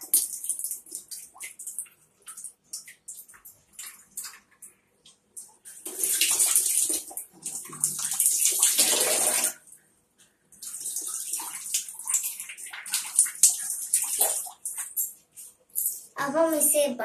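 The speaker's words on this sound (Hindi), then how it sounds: "इसे आप खोल लेंगे और इसमें पानी भरना चाहिए।" Water poured from a vessel into the small water tank of a little fan, splashing in bursts of a few seconds with pauses between, close up, as someone speaks at times.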